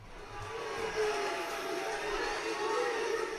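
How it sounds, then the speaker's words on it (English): An arena crowd at a WWE NXT wrestling show makes a steady, distant roar of chatter and cheering that holds for the whole stretch, with no single voice standing out. "And the crowd looks happy."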